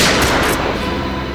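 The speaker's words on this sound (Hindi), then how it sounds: "shoot Abhijit, shoot" Gunfire in a TV crime drama scene, a loud burst of noisy blasts filling the whole clip with no talking.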